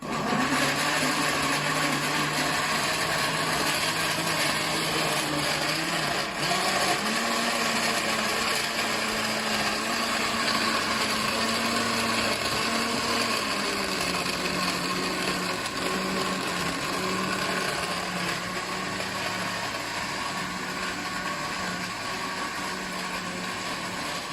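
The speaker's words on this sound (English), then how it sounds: "Now you close the blender, so you can see if it's on or not" A blender running steadily, a loud continuous motor whine with a slight dip in pitch partway through, no pauses for the whole stretch.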